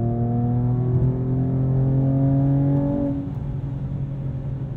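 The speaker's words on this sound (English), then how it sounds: "Oh, there's that exhaust." A sports car exhaust rumbles in sport mode with manual shifting, a loud close engine tone climbing steadily in pitch before an abrupt shift drops it to a lower, rougher drone.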